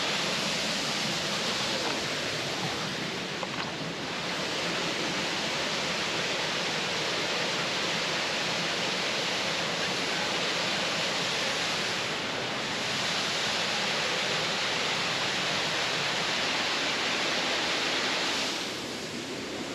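Kilgore Falls in Maryland roars as a waterfall feeding a rushing river, a steady, close, full-bodied wash of falling water that holds constant for the whole stretch with no voices.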